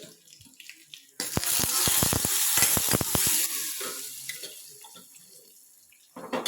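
Sudden loud sizzle and crackle as seeds hit hot oil, popping sharply at first and then settling into a softer hiss that fades.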